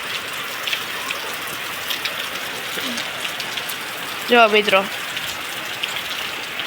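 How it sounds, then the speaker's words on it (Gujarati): Heavy rain pours steadily as a continuous broadband hiss throughout, with someone speaking briefly over it near the middle. "ફૂલ વરસાદ આવે અત્યારે"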